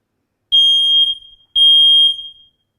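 A smoke alarm shrieks in two loud, piercing electronic beeps, each lasting about half a second with a brief gap between, close and sharp against near silence during a test.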